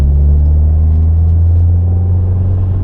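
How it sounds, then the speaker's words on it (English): A 1998 Toyota Altezza cruising on the road, a loud, steady low rumble of tyre and road noise filling the cabin, with no talk. "I just like the road noise"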